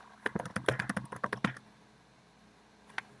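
Computer keyboard typing in a short burst of about a dozen quick keystrokes, followed by near silence and one last isolated keypress, quiet and close.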